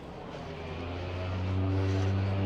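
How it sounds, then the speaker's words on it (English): A seaplane taking off from the water at Vancouver's downtown waterfront near Canada Place, its engine drone rising steadily with a clear humming tone that swells louder over a couple of seconds amid distant ambient noise. "There's another plane taking off."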